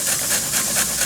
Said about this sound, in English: All I'm going to be doing is just grating some carrots